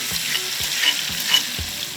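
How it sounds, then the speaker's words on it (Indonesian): Ground spice paste sautéing in a hot pan, a steady loud sizzle with regular scraping stirs of a utensil roughly every few tenths of a second, close and alone. "Tumis bumbu yang telah dihaluskan hingga harum"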